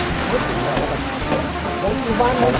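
Rain pouring during a storm in a rural Thai village, a dense, continuous hiss of water hitting surfaces at steady loudness from start to finish.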